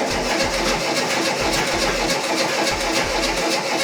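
Freshly rebuilt, untuned air-cooled engine of an old VW camper fires and runs steadily and loudly, with a rough, pulsing idle and regular low thumps throughout.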